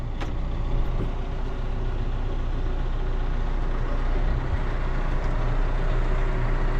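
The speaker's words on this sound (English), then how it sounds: "So our tractor is all warmed up." A warmed-up tractor engine idles in cold weather with a constant, close, loud diesel-like rumble and no change in pace or pitch from start to finish.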